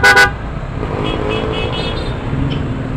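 Road traffic in a congested street, opening with two quick car horn toots up close, followed by a steady hum of idling and passing vehicles, with faint distant honks.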